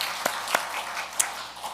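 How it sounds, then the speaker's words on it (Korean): A church congregation applauds to encourage a missionary's wife, producing a soft, diffuse wash of clapping with a few sharper individual claps standing out. "일어서시면 우리가 격려의 박수를 드리겠습니다."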